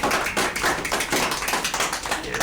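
A classroom of students clapping quietly, a soft and steady patter of light hand taps lasting a couple of seconds with no voices over it.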